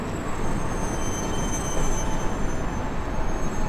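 An AI subway train at rush hour in World of Subways 4 rolls along with a steady rumbling roar, and high wheel squeals and whines ride over it. The sound is loud and continuous, with no voices.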